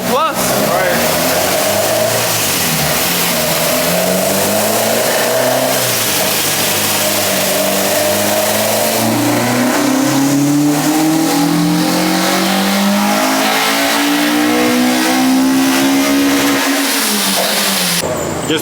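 A Spoon K20A engine in a Honda EG chassis with a Toda setup, revving hard on a dyno, loud and continuous with the pitch sweeping upward through the gears.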